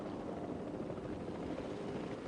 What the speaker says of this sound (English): And now I'm safely in the helicopter